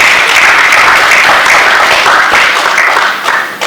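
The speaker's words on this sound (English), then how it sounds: "Please, a round of applause for him." An audience at a student venture capital grant launch applauds, a loud, dense wash of clapping that holds steady for several seconds before thinning slightly at the end.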